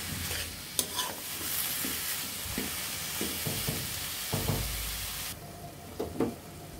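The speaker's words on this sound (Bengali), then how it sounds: "সবজিগুলো ভেজে নিতে হবে" Vegetables coated in ground spices, including tender bottle gourd, fry in a hot pan with a steady close sizzle, broken by repeated scraping stirs and a few sharp clinks against the pan.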